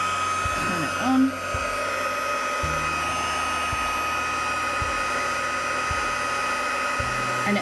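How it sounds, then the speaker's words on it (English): A heat tool blows steadily on glazed paper beads for jewellery, giving a continuous whooshing hum with a few faint low knocks and handling sounds beneath it. "get the heating tool, which is here."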